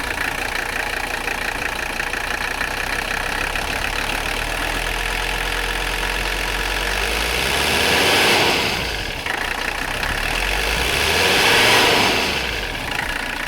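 An abandoned Mercedes 300CD engine runs loudly and close, idling steadily, then revs hard twice to high RPM with a swelling rise and fall each time.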